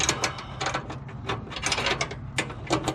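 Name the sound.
turning a nut onto a bolt, Husqvarna mower deck repair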